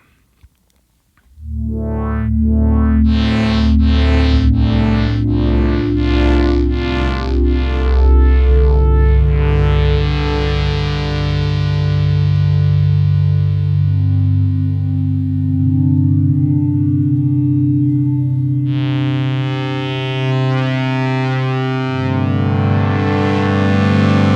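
A Sequential Take 5 synthesizer plays a sequence of sustained, shimmering notes that swell and shift, with voice spread panning giving a wide, spacious stereo spread and a brighter chord entering near the end.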